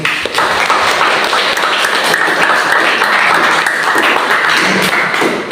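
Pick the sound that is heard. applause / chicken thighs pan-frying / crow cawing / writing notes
applause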